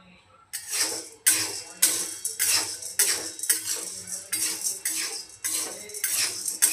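Dal roasts in a pan over a medium flame for chakli flour and is stirred with a metal spoon, giving loud, close, rhythmic scraping strokes about twice a second.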